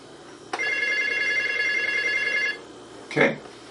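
A telephone rings with a bright electronic trill for about two seconds. A short clatter follows, as if the handset is picked up, and background noise continues throughout.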